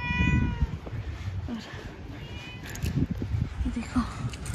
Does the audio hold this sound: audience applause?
no